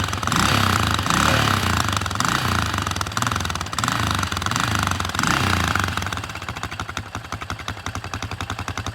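A 1978 Yamaha TT500 enduro single-cylinder engine, kick-started cold, runs with a loud, close, rapid thumping beat that settles into a faster, lighter idle patter, with no voices.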